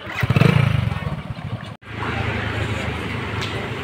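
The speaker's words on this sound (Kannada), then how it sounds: "ಇದೊಂದು ಬೈಕು, ಆಮೇಲೆ ಇದೊಂದು ಸ್ಕೂಟಿ ತೊಗೊಂಡು ಹೊಂಟೇವಿ" A motorcycle and a scooter setting off from home on a drive to North Goa, a close engine idling with a pulsing throb that cuts out briefly, then a steady running drone resumes.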